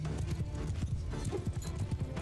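Horse archers' hooves in the video game Mount & Blade II: Bannerlord, a rapid, rolling clip-clop of many galloping horses, close and steady for the whole stretch with a faint whinny partway through.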